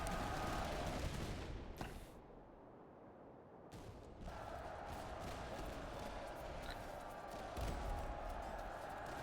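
Massed musket volley from troops in the video game Master of Command, Austrian border troops, a dense crackling burst of gunfire at a distance, repeating in clustered waves over a steady battlefield din.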